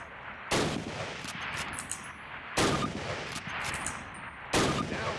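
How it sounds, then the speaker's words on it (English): Three loud, sharp Springfield rifle shots ring out in a Call of Duty basic training range, spaced about two seconds apart, each with a booming blast and a lingering tail that fills the gaps. "Grab up a Springfield Rifle from the table, switching it for your carbine. Turn to the left, move to the fence, and fire 2 rounds at your target."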